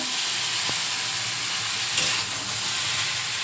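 Potatoes fry in hot oil with a steady, close sizzle that stays even throughout, and one brief clink of a utensil partway through.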